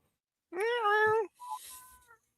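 A cat gives one clear, drawn-out meow followed by a shorter, softer second call, close and fairly loud in an otherwise quiet room.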